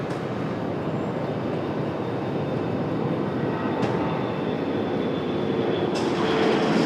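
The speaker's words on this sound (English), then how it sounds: "There's Air Canada up for departure." An Air Canada airliner departs Raleigh-Durham airport, heard as a sustained, fairly loud engine rumble that swells slightly toward the end, with no one talking.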